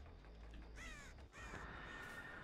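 Crows in the horror video game Dead by Daylight give two distinct caws, fairly close and clear, over a low hum of ambient game sound.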